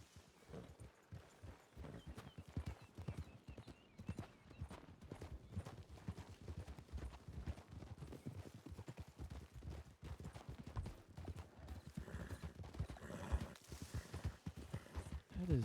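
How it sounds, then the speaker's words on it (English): Steady clip-clop of horse hooves at a trotting rhythm, fairly close, with scattered game ambience and faint background noise throughout. "horse I heard riding up to here?"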